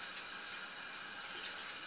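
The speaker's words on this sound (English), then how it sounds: "and it says you have to add 3/4 cups of water," Water poured from a measuring cup into a bowl of Cheddar Bay biscuit mix, a steady, quiet splashing stream with no voices over it.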